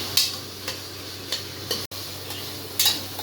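Onion and garlic sautéing in a pan for Kongu-style dal rice, with a faint sizzle under intermittent scraping stirs of a spoon against the pan, a few strokes spaced apart and a brief dropout midway.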